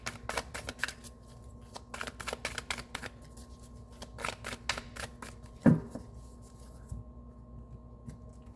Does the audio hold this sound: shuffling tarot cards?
yes